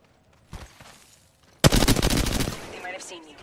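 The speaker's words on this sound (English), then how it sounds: "Getting shot at." Gunfire in a shooter video game, a short early burst followed by a loud sustained rapid automatic volley of shots, close and dense.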